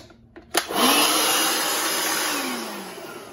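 After a click, a compact Milwaukee M18 cordless blower, locked on, spins up to a loud, steady rushing whoosh that holds for a few seconds nearby.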